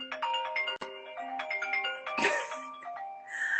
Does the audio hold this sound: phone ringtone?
yes